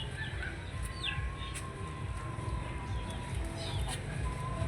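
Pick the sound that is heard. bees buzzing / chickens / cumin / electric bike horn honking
chickens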